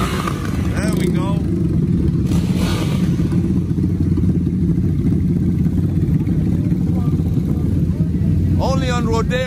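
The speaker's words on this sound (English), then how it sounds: "Motorcycles right here." Motorcycles pass along Rodeo Drive, a loud continuous engine drone and rumble of street traffic running throughout, with a voice talking briefly over it near the start and end.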